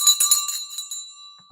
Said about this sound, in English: It is bell time. The bell is ringing.